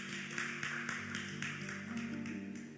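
A church congregation claps in a steady rhythm during a worship service, the beats faint and distant over sustained music.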